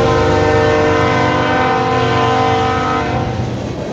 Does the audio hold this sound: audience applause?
no